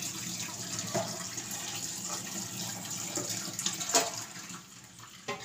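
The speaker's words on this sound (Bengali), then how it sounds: "ঠান্ডা জল দিয়ে আমি একটু চাউমিনটা ধুয়ে নেব।" Cold tap water runs steadily over boiled chow mein noodles, a continuous splashing rush with a few brief clatters near the end, moderately loud and close.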